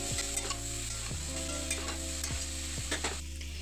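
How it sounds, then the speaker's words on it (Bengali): Potato and eggplant frying in a pan over a medium flame, a steady close sizzle broken by several scraping stirs of the spatula, with no talk. "আলু এবং বেগুনটা কিছুটা ভাজা হয়েছে।"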